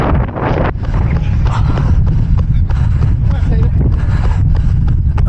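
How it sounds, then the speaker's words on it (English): Wind buffets the microphone during an outdoor 5 x 2.76 km relay race: a steady, loud low rumble that runs through the whole stretch, with voices faintly mixed in. "Listen to that glorious wind."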